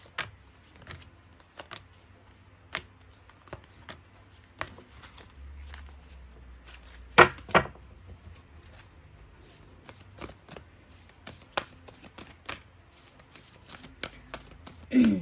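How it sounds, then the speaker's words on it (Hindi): A deck of tarot cards shuffled by hand at close range, giving repeated riffling bursts and sharp card taps separated by short pauses, fairly quiet with no talking. "3 डेक का इस्तेमाल करूँगी, तीनों डेक से 3 कार्ड्स निकालूंगी।"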